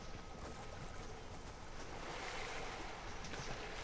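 Fortnite water ambience, a continuous wash of waves and surf, low and steady, as a player jumps into the water. No speech is heard.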